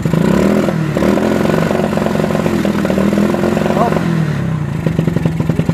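A Honda Grand Supra GL 125 motorcycle engine revs repeatedly up and down, loud and close, its pitch rising and falling over a steady mechanical rattle.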